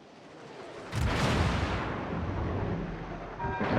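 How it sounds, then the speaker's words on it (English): Secondary guns of the German battleship Pommern fire in World of Warships: one heavy boom lands about a second in, rumbles on, and a second blast follows near the end. "And secondaries finish off Helen."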